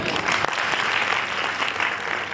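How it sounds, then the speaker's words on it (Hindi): A convocation ceremony audience applauds students who performed a dance, with a thick, continuous wash of clapping at steady volume from start to finish. "तो हम एक बार उनका अभिनंदन कर सकते हैं ताली बजाकर"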